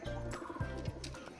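Pet pigeons, including a young golden bird, coo in low, throaty phrases, two or three soft rolling coos close by, with faint chirps above them.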